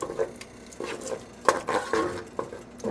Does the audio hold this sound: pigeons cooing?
no